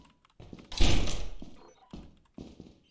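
A heavy door thuds shut in the video game Lethal Company, a loud close thunk with a brief rumbling tail, followed by softer footstep-like knocks.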